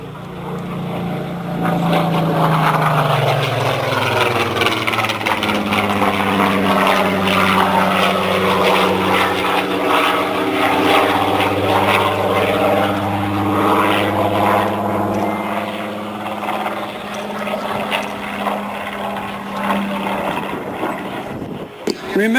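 Supermarine Spitfire Mk18, a large, fully loaded propeller fighter, roaring past in a sustained loud drone whose pitch slides downward as it passes, then fades slightly toward the end.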